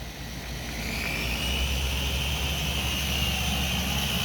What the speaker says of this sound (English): He's doing compounding right now